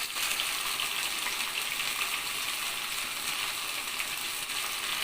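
Masala-coated mushroom pakodi fry in hot oil with a steady, even hiss and fine bubbling crackle that holds at a moderate level throughout, with no voices.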